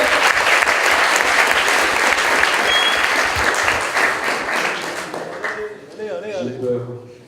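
Audience applause during a French school project oral presentation, a steady loud wash of clapping that slowly fades, with a voice starting to speak as it dies down.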